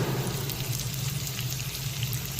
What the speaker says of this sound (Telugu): కరివేపాకు ఆయిల్లో బాగా వేగుతుంది కదా, బాగుంటుంది.